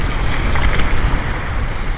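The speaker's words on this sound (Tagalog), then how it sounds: "bigla na lang lumakas yung hangin" Strong wind by the sea roars and buffets the microphone continuously, a loud dense rush with no pauses and no voices.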